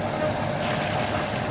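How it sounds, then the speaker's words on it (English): A sailboat's engine running while under way, a steady broadband drone with wind buffeting the microphone and water rushing past the hull, continuous and fairly close with no pauses. "you probably hear that the engine's on"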